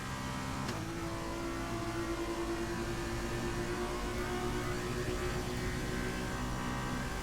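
Formula 2 race car lapping the Belgian Grand Prix, a steady high engine whine at constant loudness with shifting pitch as it pulls through the gears, heard through an ongoing broadcast mix.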